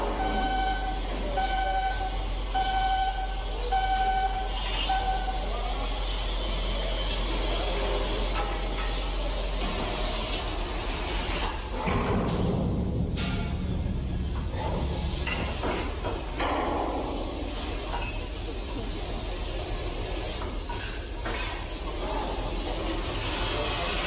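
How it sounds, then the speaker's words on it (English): A 40-ton crankshaft is installed in a ship, with repeated beeping at first, then steady hissing, spraying noise and occasional clanks in a loud industrial space, no speech. "So a 40-ton crankshaft being installed in a ship."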